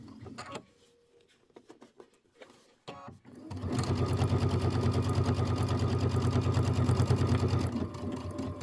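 Sewing machine piecing quilt blocks with a back stitch, first a few short stop-start bursts and handling noises, then a steady, fast, close mechanical whir running several seconds before easing slightly at the end.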